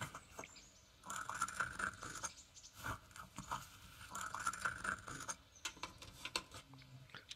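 A pestle grinds ingredients in a mortar with faint, close scraping and crunching strokes in two bursts, each a quick series of gritty rubs separated by a short pause.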